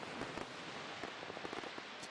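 Fireworks in a K-pop music video crackle and pop in a dense, fairly faint scatter of small bursts, rapid irregular snaps layered over a soft hissing bed.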